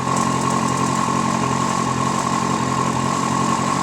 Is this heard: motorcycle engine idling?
yes